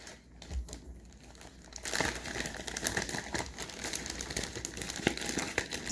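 A blood spot card slides into a small plastic bag from a sample kit, giving a steady crinkling and rustling of plastic that picks up after a quiet start and continues close by with no talking.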